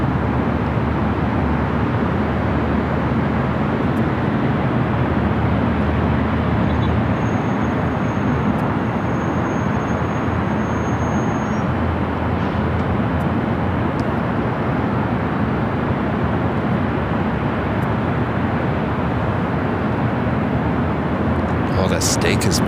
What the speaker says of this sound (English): China Airlines will be heading to Tom Bradley, now cross it over 24 left here on the north side.